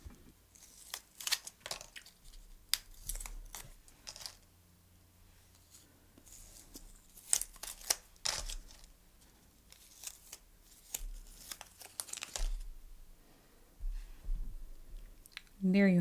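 Soft gel nail extension forms are peeled off cured nails, giving close, soft crackling peels and small clicks in scattered bursts, with some quiet handling noise between them.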